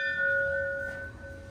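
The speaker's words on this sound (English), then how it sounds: "The chimes of the bells encourage spiritual connections." A church bell at El Panecillo in Quito gives a single clear ringing chime, loud with a sustained tone that slowly fades, heard alone outdoors.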